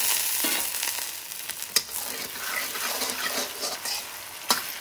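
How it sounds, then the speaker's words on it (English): Onions sizzle steadily in a hot pan for a beef mince keema curry, a continuous frying hiss with a couple of soft clicks of a utensil, no talking. "I just want the onions to soften up and come slightly golden before I add the ginger and garlic."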